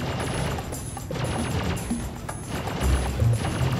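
Rapid bursts of gunfire in the space game Star Citizen during a mercenary mission, coming in repeated volleys at a fairly even pace over a low rumble, loud and close.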